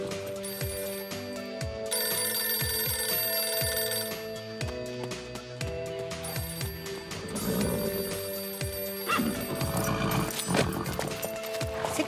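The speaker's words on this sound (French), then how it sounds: "C'est quand même curieux comme animal, un poney." Cartoon pony hooves clip-clop in an animated scene, with a neigh, set over bright ringing music and effects that run steadily throughout.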